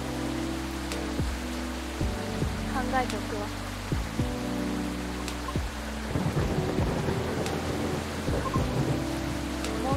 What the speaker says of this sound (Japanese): もうすぐ雨も上がりそうね。